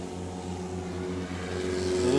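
A 2003 Aviat Husky, a Cub-like light taildragger, powers up for a short takeoff at a STOL competition, its engine drone steady and rising toward the end, a continuous near roar with no talk.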